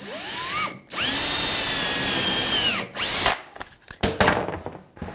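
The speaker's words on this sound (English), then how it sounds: "Now this would be nice if I had 2 drills, or one of those quick change chucks" Cordless power drill driving screws into a plywood tool chest: a steady motor whine rises, runs about two seconds and winds down, followed by short clattering bursts of handling and bit noise, close and loud with no talk.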